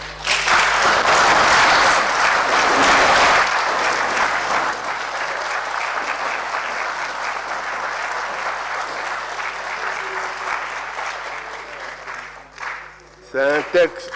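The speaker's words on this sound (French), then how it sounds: "je veux demander à la plénière d'applaudir très fort" Loud applause fills a parliamentary plenary session, dense clapping from many hands that swells early, then settles into a steady, slightly softer ovation before tapering, with a brief voice near the end.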